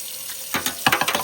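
Water rinsing paint from a cordless paint sprayer part, a short run of splashing and sloshing bursts that grows busier toward the end, over a faint steady hiss.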